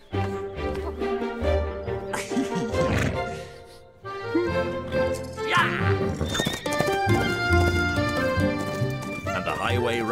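A horse gallops and neighs beneath a busy orchestral music score as the cartoon highway rat rides along the highway; the hoofbeats and whinnies stay mixed into the music throughout.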